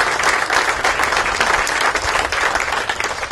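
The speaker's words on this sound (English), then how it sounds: "Let's give them a big round of applause." Loud, sustained applause from an audience at a charity playhouse reveal ceremony, many hands clapping together in a steady dense roar with no pause.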